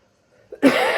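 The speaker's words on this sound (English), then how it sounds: "still got that cough going on" After near silence, a single sharp cough bursts out close and loud, followed by a rough, breathy tail.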